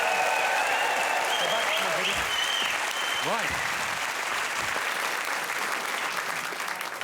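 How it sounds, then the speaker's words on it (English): A studio audience at a comedy panel show applauds for two contestants, a dense, even wash of clapping heard close and loud, with a voice briefly speaking and laughing over it early on. "A big round of applause for Rob and Judy."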